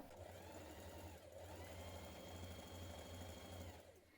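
A sewing machine runs a continuous double seam on culottes, close, steady and unbroken, with a low rhythmic motor hum.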